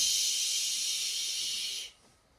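A voice makes a sustained 'shh' hiss by mouth, imitating the SH sound, steady and close for nearly two seconds before cutting off into quiet.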